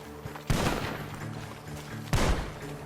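Gunshots ring out from a barn in Red Dead Redemption 2, two loud close blasts about a second and a half apart, each trailing into a rumbling echo over steady background ambience.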